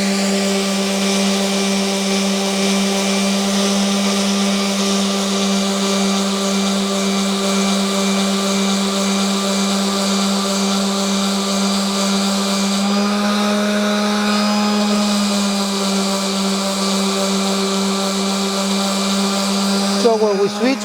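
Oscillating multi-tool cutting into the wood of an old dresser, a loud steady high-pitched buzzing whine that holds for about twenty seconds, dips in pitch briefly partway through, then cuts off at the end.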